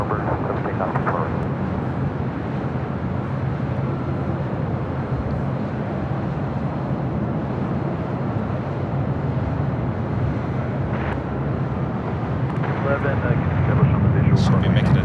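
A Delta airliner taking off at LAX gives a steady, broad jet roar that builds slightly toward the end, heard from a distance under continuous background noise.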